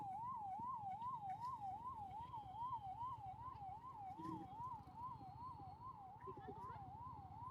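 A police vehicle's siren wails in a fast, regular up-and-down cycle as it passes, fairly faint over the low rumble of a moving car's engine.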